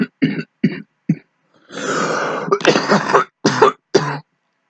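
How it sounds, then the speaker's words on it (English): A smoker's harsh cough up close: several short hacking bursts, then a longer rough rasping stretch, followed by more separate coughs and throat-clearing, loud and with no talking. "Smoker's cough, sorry."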